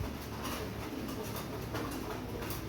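Imported-bloodline Pakistani pigeons coo softly in a loft, their low murmuring calls running continuously and quiet behind a faint background hiss, with no talking.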